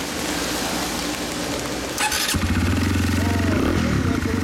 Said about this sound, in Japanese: これエンジン音聞かせてもらえる？